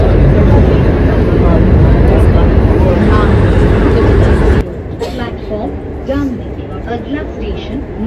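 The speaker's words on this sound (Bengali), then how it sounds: "তো এখন আমরা উঠবো মেট্রোতে, ট্রেনটা দাঁড়ালেই উঠবো।" A crowded metro train pulling into and stopping at a busy station, its loud broadband rumble cutting off abruptly partway through, leaving quieter platform ambience with voices of people talking nearby.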